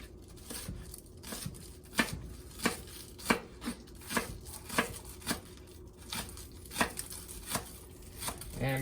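Green onions chopped with a knife on a cutting board for garden salsa, a steady series of crisp knocks about one per second, close and clear with no talking.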